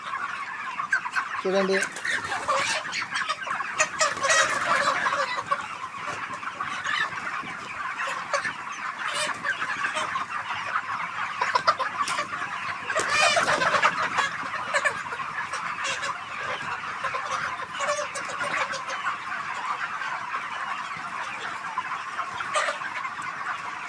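Chickens on an open-air poultry farm cluck and murmur steadily as a dense flock chorus at moderate distance, with a brief spoken word near the start.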